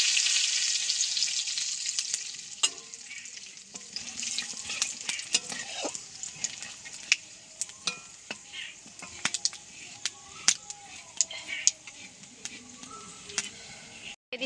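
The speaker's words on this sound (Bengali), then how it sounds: "দিয়ে দিচ্ছি তেজপাতা আর শুকনো লঙ্কা, গোটা গরম মশলা ফোড়ন দিচ্ছি।" Bay leaves, dried red chillies and whole garam masala sizzle in hot oil left from frying prawns for a prawn malai curry. A steady close hiss is broken by sharp crackles and spoon clicks.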